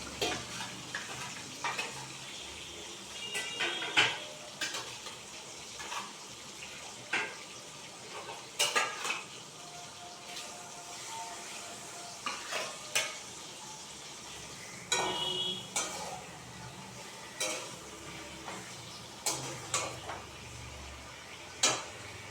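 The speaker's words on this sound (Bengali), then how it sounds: "মাছটা ভাজা হয়ে যাক" Fish fry in a pan after milk is added, giving a low steady sizzle throughout while a utensil clinks and scrapes against the pan in frequent short knocks, close up with no talking.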